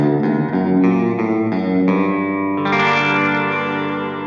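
Electric guitar chords through an ENGL Ironball SE tube amp ring out one after another, then a sustained chord swells and lingers in a wash of heavy reverb.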